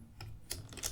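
Light, quick keystrokes tapped on a computer keyboard, a few soft clicks in under a second, faint and close, with no voices.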